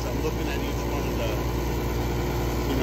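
The blower of a rooftop gas heating unit runs with a steady, loud mechanical hum and rumble that stays constant from start to finish and has no clear separate start-up.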